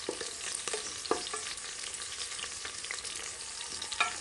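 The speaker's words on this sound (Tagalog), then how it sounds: "igisa natin hanggang ma-brown yung ating garlic" Garlic and red onion sauté in a hot pan with a steady bright sizzle and occasional sharp crackles and stirring clicks, close and moderately loud, no talking.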